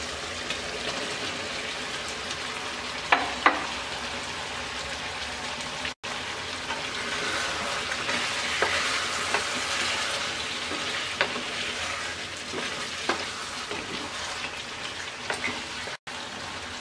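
Chicken curry with cucumber sizzles steadily in a pan over medium heat, a close, constant frying hiss broken by a few soft stirring clinks and scrapes, with no voices.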